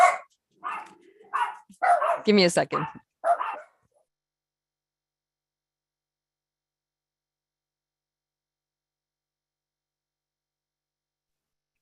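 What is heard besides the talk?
dogs barking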